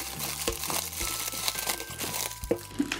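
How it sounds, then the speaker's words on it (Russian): A label and tape are peeled off Kinder Maxi egg packaging, producing soft, close crinkling and tearing with a few sharper crackles, quiet and without talk. "Снимаем этикетку, отклеиваем скотч"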